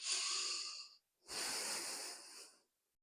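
Two slow, deep breaths during a yoga flow, a long audible inhale or exhale followed after a brief pause by another, close and soft with a breathy hiss.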